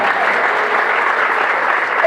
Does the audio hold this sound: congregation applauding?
yes